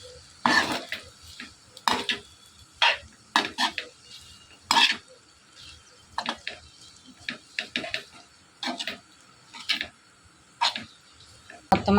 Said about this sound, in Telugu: ఉడకబెట్టి పక్కన పెట్టుకున్న నూడిల్స్ అన్నీ వేసుకుని ఇందులో మిక్స్ అయ్యేలా మొత్తం కలుపుకోవాలి